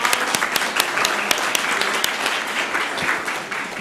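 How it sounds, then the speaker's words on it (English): Round of applause in a city council meeting chamber, a moderate room of people clapping with distinct sharp claps standing out, tapering slightly at the end. "let's give them a round of applause"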